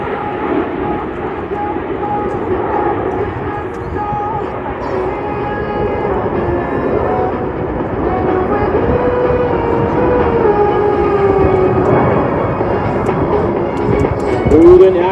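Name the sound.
Canadian Forces Snowbirds aerobatic team aircraft flying at airshow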